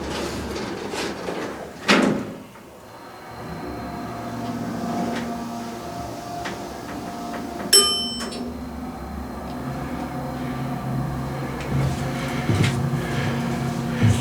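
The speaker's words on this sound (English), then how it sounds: "Let's listen to the motor." A Niagara hydraulic elevator at a parking ramp in Buffalo, NY, with its motor running as a steady, moderate hum, punctuated by a few clunks and a brief electronic beep.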